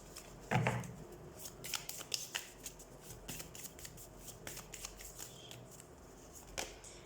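Tarot cards are shuffled up close for a reading, a burst of riffling followed by a steady run of soft, crisp flicks and slaps.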